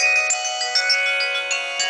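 NES game console mobile phone startup tone while booting, a steady, bright electronic jingle with layered sustained notes and short melodic blips, clean and loud with no talking.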